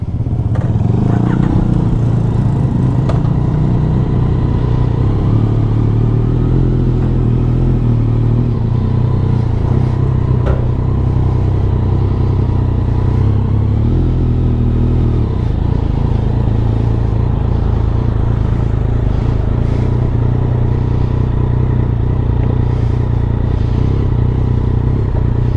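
A Yamaha Y15ZR V2 motorcycle engine idling and revving up close, a loud, continuous low rumble with rising and falling throttle blips and mechanical clatter, sustained for the whole stretch with no talk.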